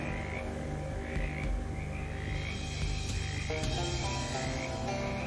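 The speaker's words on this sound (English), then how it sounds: "Hello, frogs? Ribbit. Ribbit." Frogs croak in a swampy scene of the video game Shadows Over Loathing, a steady chorus of rhythmic, warbling calls that rise and fall over a low ambient music bed, with no talk.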